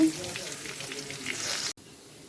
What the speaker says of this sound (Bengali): আলুগুলো ভেজে নেবো আগে।